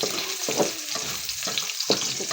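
Pork fat sautéing for pakbet, a close crackling sizzle broken by a few pulsing bursts of stirring over a short stretch, with no voices.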